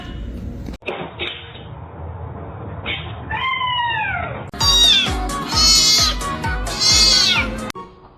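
A pet cat gives a string of loud, close meows, starting short and rising into longer drawn-out cries toward the end, with little else around it.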